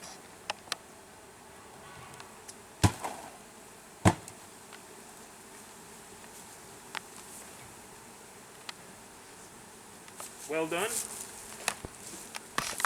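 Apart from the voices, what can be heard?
honeybees buzzing while shaken into hive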